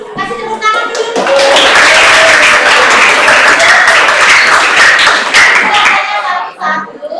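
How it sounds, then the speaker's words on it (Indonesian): A group of people, apparently children, claps together in an indoor coaching session, with loud, dense, sustained applause filling about five seconds before it tapers off into a few scattered claps. "Kasih tepuk tangan dulu."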